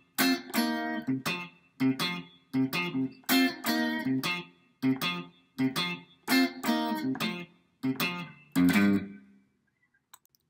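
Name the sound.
guitar playing first bridge of a song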